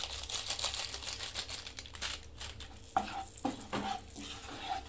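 Paneer masala is stirred in a pan with a steady low sizzle and irregular sharp scrapes and taps of the spoon, close and fairly quiet.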